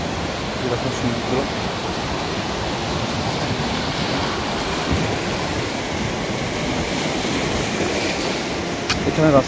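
Sea waves at the Digha Mohona estuary wash in as a steady, loud broadband roar of surf, continuous throughout with a few stronger surges near the end.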